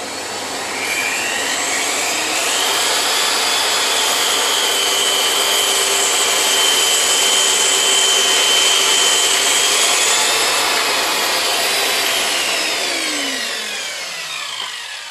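A power saw runs steadily through its first angled cut in wood for an outdoor shower enclosure, a loud sustained whine with a gradual rise and fall, alone with no voices.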